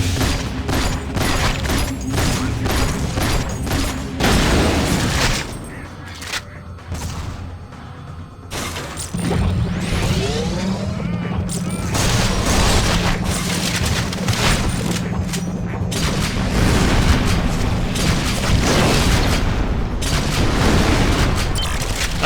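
Rocket explosions rumble in the GoldenEye: Rogue Agent video game, a dense run of booming blasts and gunfire-like bursts filling most of the stretch, loud and continuous with a short lull midway.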